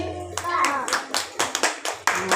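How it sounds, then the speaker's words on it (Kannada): A group of children at an ashram in Tavaragera claps their hands, giving a run of separate bursts that are close and moderately loud, with a voice heard alongside. "ಚಪ್ಪಾಳೆ ಹಾಕ್ರಿ."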